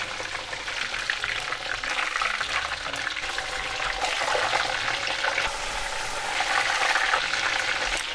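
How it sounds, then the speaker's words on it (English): Breaded chicken cutlet deep frying in hot oil at about 170–180°C for katsu curry, a steady dense crackling sizzle that runs loud and close throughout, swelling slightly toward the end, with no talk. "turn the heat to high and bring the heat to about 170, 180 degrees or so, and fry with high temperature for about a minute or so"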